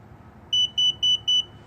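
Four short, clear electronic beeps in an even rhythm from a Hansshow aftermarket power trunk on a Tesla Model 3, close and loud over a quiet background.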